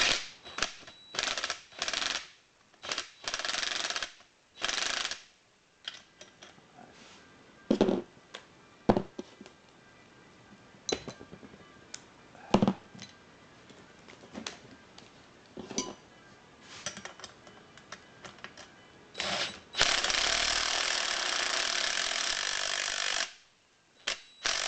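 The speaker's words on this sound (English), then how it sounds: "Not tightening these up, just kind of running the nuts up a little bit." A torque wrench running nuts loosely onto C3 suspension parts makes sparse, sharp metallic clicks and ratcheting bursts, with a longer continuous rattle near the end and quiet gaps between.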